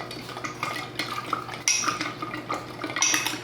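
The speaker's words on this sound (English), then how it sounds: "I'll stir behind you just to get the sugar to dissolve" A spoon stirs sugar into hot water inside glass jars, making repeated clinks and scrapes against the glass with light sloshing, close and fairly loud, with no talking.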